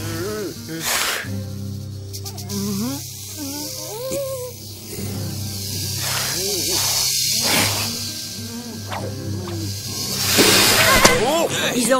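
A rattlesnake hisses in an animated film, a rough breathy hiss rising over a busy cartoon soundtrack with music and voices around it.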